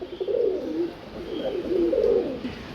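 Low, throaty pigeon coos repeat in soft rolling phrases, close by, with a faint steady background hiss and no talking.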